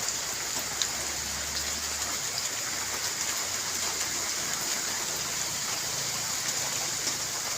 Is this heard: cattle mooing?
no